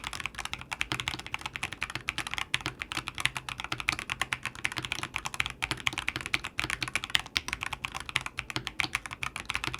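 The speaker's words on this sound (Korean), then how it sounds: "사실 이 제품은 게이밍용 기계식 키보드라서 최대한 조용하게 쓸 수 있도록 통울림을 잡기보다는 타건음이 사방팔방 잘 퍼져나가도록 만들었습니다" A Razer BlackWidow V4 Pro 75% mechanical gaming keyboard with roughly 50 g switches is typed on in a fast, continuous run of sharp, clicky keystrokes, close and clear with no talking.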